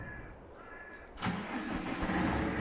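A tractor engine in Farming Simulator 22 cranks and catches after a quiet start, then settles into a steady rumbling idle that stays loud to the end.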